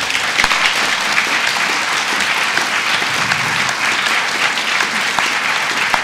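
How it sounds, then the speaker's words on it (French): An audience claps warmly in a dense, sustained round of applause that stays even and loud throughout. "J'aimerais qu'on vous applaudisse très chaleureusement."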